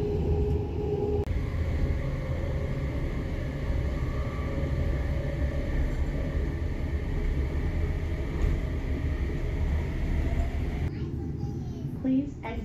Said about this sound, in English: I'm taking the light rail to the airport.